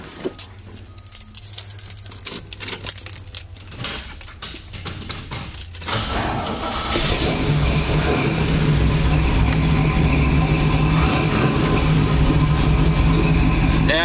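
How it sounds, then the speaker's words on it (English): A 1969 Chevrolet Camaro SS, with keys jangling and clicking before the engine fires up and settles into a loud, steady, rumbling idle. "We'll start this car up for you."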